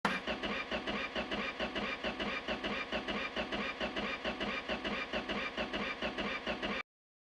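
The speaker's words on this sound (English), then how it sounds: "let's see if this engine fires" Homebuilt Iron Lad engine test firing for the first time in a garage, running steadily and loudly with a rhythmic pulsing idle for nearly seven seconds before cutting off abruptly.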